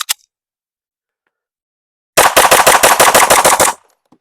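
Ten rapid pistol shots from an S&W Spec Series V steel-frame handgun fitted with a competition DPM recoil spring, a loud, evenly spaced string of sharp reports in under two seconds after a long silence.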